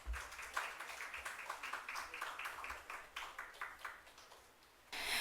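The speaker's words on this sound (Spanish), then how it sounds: "Fuertes aplausos, por favor," Audience at a book presentation applauding the guests of honour, a steady patter of many hands clapping at moderate distance, fading briefly before a louder burst of applause right at the end.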